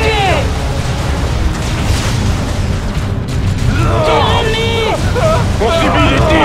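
Battle sounds from the strategy game Warhammer 40,000: Dawn of War II, with continuous rumbling explosions and weapon noise mixed with game voices and music, loud and dense throughout.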